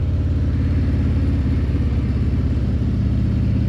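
A Harley-Davidson motorcycle engine runs steadily at fairly high revs while riding, a loud, continuous low rumble with even harmonic drone and no talk throughout.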